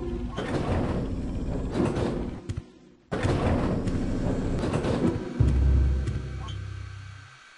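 A sliding door in the video game Martian Gothic opens with a long mechanical hiss and rumble, breaks off briefly, then starts again and ends in a deeper, heavy thud, loud and close.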